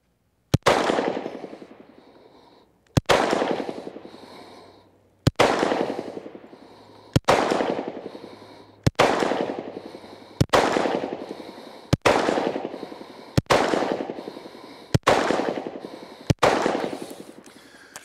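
Ten separate gunshots fired at a target on a range, each a sharp loud crack with a decaying tail, spaced roughly every one and a half to two seconds, with no talking.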